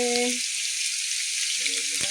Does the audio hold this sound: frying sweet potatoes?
yes